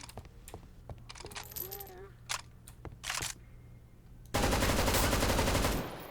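Guns in Garry's Mod fire through a concrete wall as a rapid series of sharp shots and clicks, then a sustained loud burst of automatic fire. A voice talks briefly in between.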